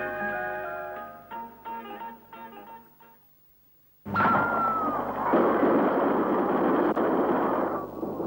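After a few seconds of tinkling musical tones and a brief silence, a loud burst of fireworks at a grand display in Doncaster crackles and roars on for several seconds.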